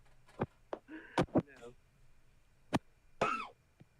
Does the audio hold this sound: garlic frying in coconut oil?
no